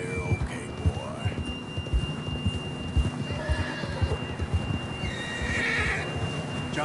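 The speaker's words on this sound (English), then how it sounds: "John was riding that horse when we left Blackwater." A horse whinnies in Red Dead Redemption 2, the neigh rising midway over steady hoof clip-clops and a low game ambience, fairly close and moderately loud, with no talking.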